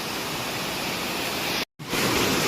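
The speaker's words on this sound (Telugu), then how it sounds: "చూడండి ఫ్రెండ్స్, వాటర్ ఫాల్స్ నా కళ్ళతో." Erakapalem waterfall in Kakinada district, Andhra Pradesh, a small fall of cold reddish water, heard as a close, steady broadband rush of falling water with one brief dropout.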